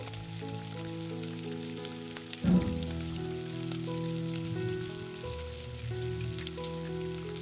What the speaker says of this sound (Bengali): ওই একই তেলে কিন্তু বাকি বড়াগুলোকেও ওই একইভাবে গোল্ডেন ব্রাউন করে ভেজে নেব